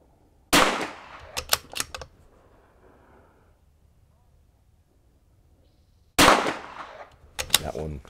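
Two loud rifle shots crack at an outdoor shooting range several seconds apart, each followed by brief clicks and rattles, with near silence between them.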